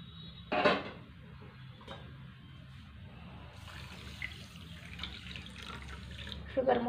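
Water is poured onto sugar in a pan on the stove to make syrup: a brief splash, then a faint, steady trickle and light clinks of the pan under quiet background sounds.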